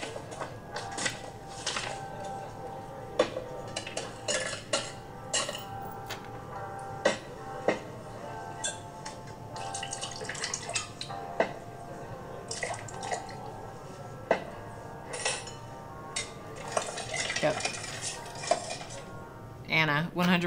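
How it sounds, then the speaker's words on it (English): Recorded cocktail-making sounds from the Echoes board game: clinking ice, glassware and utensils rattle and tap in scattered sharp hits, with liquid drips and soft shaking or stirring running through about twenty seconds. "I heard a shake, but it also could have been the stir."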